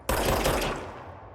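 Burst of gunfire from a gun in the video game Control, a sharp loud onset followed by a short rapid rattle that decays over about a second, heard alone.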